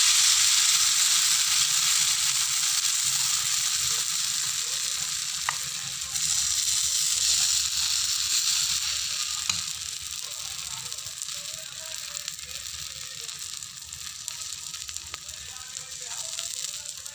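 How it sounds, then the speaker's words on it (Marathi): Ghee and oil frying on a hot tawa, giving a loud, steady sizzle that runs unbroken from start to finish with a few small pops. "तवा तापवून आता तूप आपण मगाशी केलं त्याच्यात तेल टाकूया"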